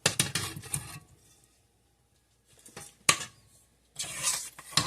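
Cheese blocks are stirred through creamed milk in a bowl, giving short scraping and sloshing bursts with pauses between them, close and moderately loud.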